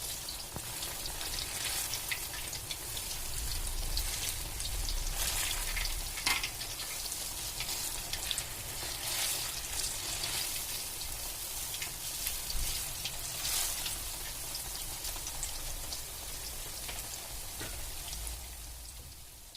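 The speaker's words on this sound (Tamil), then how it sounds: "அளவுக்கு எண்ணெய் ஊற்றி ஷாலோ ஃப்ரை மாதிரி பண்ணிக்கோங்க" Stuffed bananas shallow-frying in a pan of oil, giving a steady, even crackle and sizzle with fine popping throughout, moderately close and uninterrupted by voices.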